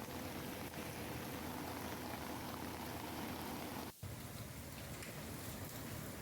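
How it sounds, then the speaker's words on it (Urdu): Torrential rain pours down steadily in a dense, hissing roar that is loud and close, briefly cut off for an instant near the end before resuming, with no voices. "موسلا دھار بارش۔"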